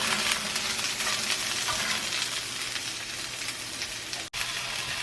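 Sliced peppers sizzle steadily in a hot pan, a dense close crackling hiss with faint stirring, ready for onions to join them in a Philly cheesesteak filling.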